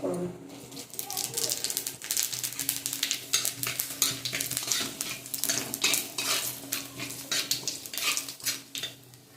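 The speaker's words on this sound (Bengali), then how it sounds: "ফোড়ন ভাজা হয়ে গেছে" Panch phoron whole spices frying in leftover fish-frying oil, a steady crackling sizzle with clinks of a spoon against the pan throughout, close and moderately loud.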